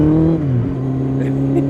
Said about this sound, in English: Still revving it.